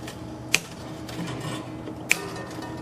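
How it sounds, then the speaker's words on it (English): Two sharp metallic snips from wire cutters clipping old, loosened acoustic guitar strings, widely spaced and crisp against a quiet room background. "Once the strings are loosened, you can then cut them. Some basic wire cutters"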